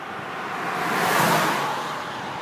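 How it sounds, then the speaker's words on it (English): A single car passes by on an outdoor road, its broadband tire and engine rush swelling gradually to a peak near the middle and then easing off, steady and fairly close with no talk. "Here comes another car."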